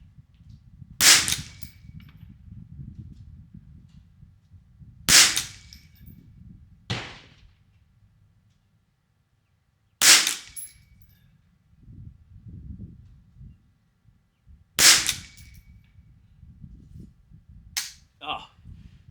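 A Ruger 10/22 rifle fires SK ammunition outdoors, with sharp single cracks spaced a few seconds apart, about six in all, and quiet handling noise and a low murmur between them.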